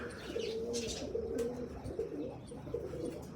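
An old pigeon, one eye black and the other white, coos in steady, throaty rolling phrases up close, repeating several times with faint chirps and background rustle.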